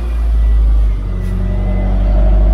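A Subaru ice racing autocross budget-build car engine catches and runs, a loud, steady low rumble that dips briefly, then holds at a constant, close, heavy drone with no talk.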